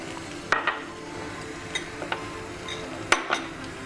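Dry maida pasta poured into a metal pot makes a few sharp clinks and rattles, close and fairly quiet, spaced irregularly against a soft kitchen background.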